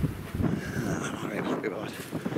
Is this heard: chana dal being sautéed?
no